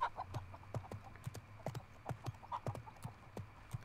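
Horse hooves clip-clop steadily in the Mount & Blade Warband game, a brisk close rhythm of hoofbeats with faint ambient sound behind.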